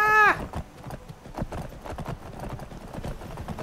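Hooves clip-clop steadily on a horse in the video game Skyrim with the Wildlander mod, a rhythmic run of close, moderately loud hoofbeats following a brief neigh at the start.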